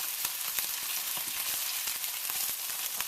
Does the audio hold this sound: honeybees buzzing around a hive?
no